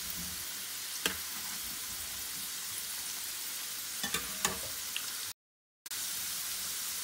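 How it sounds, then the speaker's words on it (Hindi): Potato snacks fry in hot oil with a steady, close hiss, broken by a few light clinks of stirring and a brief moment of silence. "ये देखिए ये ऑलमोस्ट फ्राई हो चुके हैं"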